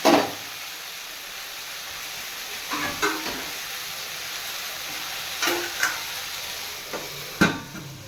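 Eggplants frying under a lid in a covered pan for a yogurt eggplant dish, a soft steady hiss and sizzle with a few sharp metallic clinks and taps, close and fairly quiet with no voices.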